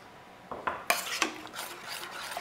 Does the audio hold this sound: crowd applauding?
no